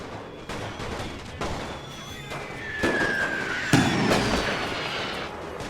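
Artillery barrages in a World War I strategy video game, heard as a dense, continuous run of booms and cracking blasts, with louder explosions building toward the end.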